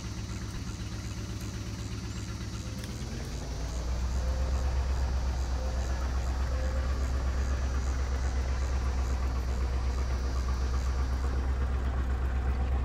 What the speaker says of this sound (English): The tractor didn't seem to have any trouble pulling that cultivator.